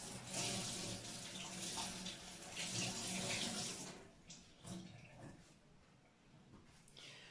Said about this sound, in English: To make sure, I'm gonna rinse them out